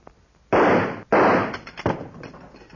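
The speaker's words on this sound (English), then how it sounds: "I think I can shoot that handle off." Two close, loud gunshots fired at the handle of a weak-looking safe vault, followed by a smaller third crack, with no voices in between.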